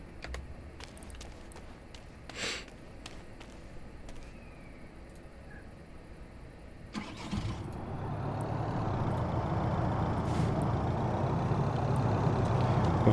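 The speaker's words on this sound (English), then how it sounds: "We have a very noisy SUV there, or a little van, whatever that thing is." A loud engine rumble rises and holds steady from a nearby SUV or small van at Kodiak, Alaska, idling and revving with a harsh, noisy tone.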